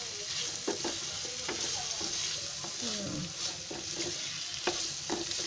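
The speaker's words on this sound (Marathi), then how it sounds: "आता हे ना सगळं असं फ्राय करून घ्यायचं, कांदा चांगला नरम करून घ्यायचा तेलामध्ये" Onion softening in hot oil with asafoetida for dal fry, a continuous close sizzle with frequent scraping stirs of a spoon in the pan, fairly quiet, no talk.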